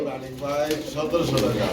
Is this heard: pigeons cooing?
yes